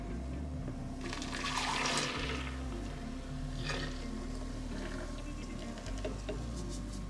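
Homemade almond milk poured back into a container, a steady liquid splashing and trickling for several seconds with a brief louder gush early on, heard close up over a low background hum.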